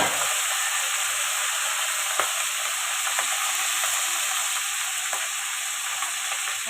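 Fish oil sizzling and frying steadily in a pan for a Bengali fish oil dish, a loud, continuous hiss with faint stirring clicks throughout.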